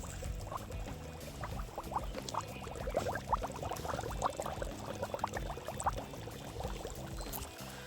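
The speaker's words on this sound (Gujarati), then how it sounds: "જમીનની અંદર પાણી લાઈવ ઉતરતું તમને અહીંયા હું બતાવી રહ્યો છું" Rainwater draining into the ground bubbles audibly, with dense little gurgling pops over a steady low wash of flowing water, heard close and fairly quiet.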